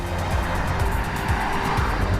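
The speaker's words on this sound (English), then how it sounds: "That is vivid acceleration." An Audi S6 e-tron Avant electric estate accelerates hard, giving a loud, steady rush of road and wind noise with a faint electric whine and a low rumble underneath.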